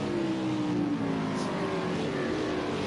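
A race car engine from a racing video game drones steadily as it runs down pit road at Long Beach, a continuous mid-pitched hum with a slowly falling tone.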